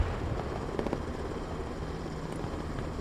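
An MH-60 helicopter in the video game Broken Arrow drones steadily with a low rotor rumble and faint blade thumping, fairly loud and continuous with no talk.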